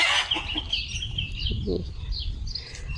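Chickens cluck softly in short bursts amid a noisy outdoor farmyard, with a faint buzz of insects and occasional rustling.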